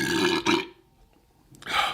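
A man's throaty burp sounds in two close pulses, then a short quiet gap and another guttural belch, near and fairly loud.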